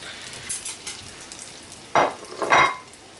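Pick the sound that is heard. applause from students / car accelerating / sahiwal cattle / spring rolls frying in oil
spring rolls frying in oil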